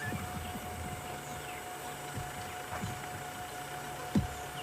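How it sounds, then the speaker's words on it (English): A distant diesel engine drones steadily in thick African bush at sunset, a low continuous hum beneath scattered francolin and other bird calls, with no one talking. "The unfortunate sound of a diesel engine."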